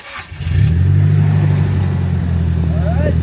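Nissan S15 with a modified exhaust and HKS actuator, engine revving up sharply then holding a loud, steady drone close by, with brief voices in the background.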